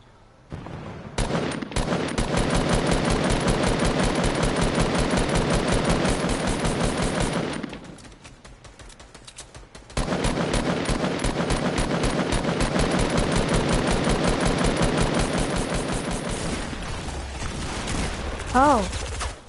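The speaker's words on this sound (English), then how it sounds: "Shoot this supply drop gun." Rapid automatic gunfire from a supply drop gun in a video game, two long loud sustained bursts separated by a short pause, with a voice speaking during the shooting.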